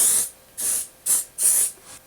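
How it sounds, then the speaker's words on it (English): Four short hissing bursts of mold release agent sprayed from a can onto the walls of a soft plastic swimbait mold, close by, separated by brief pauses, with no talking. "I'm just going to take this and spray it along the walls."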